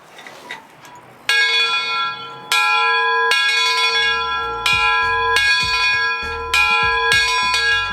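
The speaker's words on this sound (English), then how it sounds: "the bell is operable all day long, every single day" The bell of ATSF 2-10-2 steam locomotive no. 940, on display in Bartlesville, Oklahoma, clangs in slow, steady strokes, loud and close, each ring sustaining a rich metallic tone.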